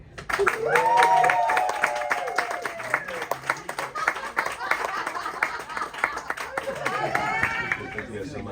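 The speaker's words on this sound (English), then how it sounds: "Please give a big warm round of applause for Matt, the Mind Noodler." Audience clapping welcomes a magician from Las Vegas onto the stage at a cruise ship show, loud sustained applause with cheers and crowd chatter, swelling again near the end.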